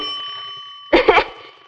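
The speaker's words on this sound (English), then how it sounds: "Rings the bell." A small electric bell wired to a transformer rings in a quick buzzing burst when two bare wire ends touch, loud and close against a steady hum.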